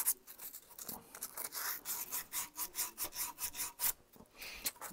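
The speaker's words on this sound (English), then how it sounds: "So I'm just going to use some fine sandpaper." Fine sandpaper scrubbing rust from the cylinder of a 1973 Bond Bug 700es engine, a quick steady back-and-forth rasp in close, even strokes with no talking.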